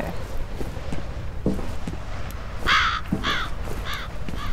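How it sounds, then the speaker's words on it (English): Crows caw repeatedly in the F.E.A.R. video game, several harsh calls in a row standing out over low ambient game noise and soft footsteps. "Crow, shut up."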